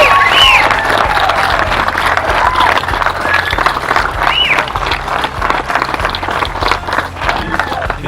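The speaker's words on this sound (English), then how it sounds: "But I think we are a big round of applause for Dave Mull." A big outdoor crowd at a Southern Pacific #18 Silver Spike celebration breaks into sustained applause with cheers and whoops, steady and full throughout.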